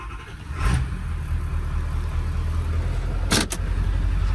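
A 1,000HP car with a 4R100 transmission moving under its own power, the engine a steady low idle-like rumble, with a brief whooshing burst early and a sharper double burst near the end.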